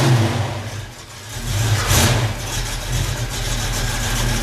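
A Mercury Cougar with a cammed engine idles nearby with a loud, lumpy low rumble, dipping briefly before a small rev and then settling back into a steady, uneven idle.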